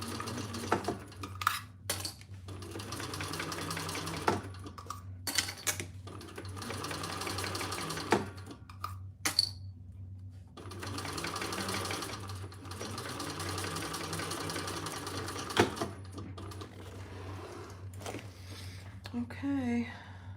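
A domestic sewing machine stitches soft leather in steady bursts that stop and start, with a continuous motor hum under the needle's rapid chatter, while a person talks at times between runs.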